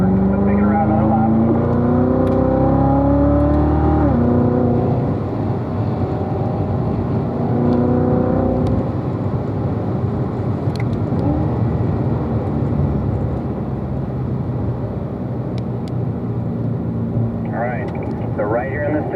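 A car engine drones and shifts pitch as the car laps a track during a morning driving session, with someone talking over it for most of the lap.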